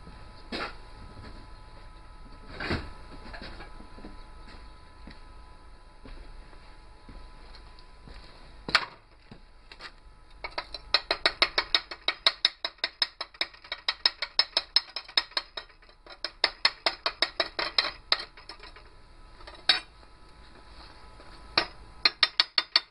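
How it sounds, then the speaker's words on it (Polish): Chipping hammer and wire brush knocking slag off practice fillet welds in the PB position: a few sharp isolated hammer taps, then a long run of rapid scraping and clattering strikes, close and loud, with no talking. "Muszę tylko znaleźć młotek i szczotkę."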